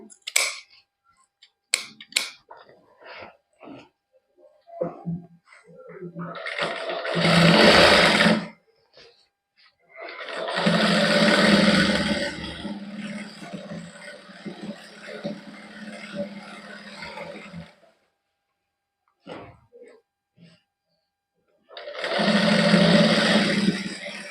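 A sewing machine stitches a salwar cuff in several short, loud whirring bursts with pauses between them, mixed with small clicks and handling noises nearby.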